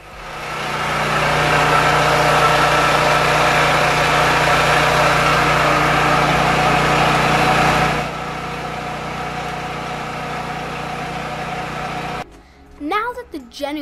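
A 5000-watt portable generator runs loud and steady while warming up, a constant engine drone with a harsh hum that drops to a lower level partway through, then a person starts talking over it near the end.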